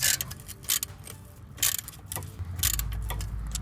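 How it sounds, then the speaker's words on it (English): A 13mm ratchet loosens bolts on a Porsche 944 with sharp, close metallic clicks in irregular bursts, over a low mechanical hum toward the end. "you just need to loosen them up, and you'll need a 13mm ratchet for that"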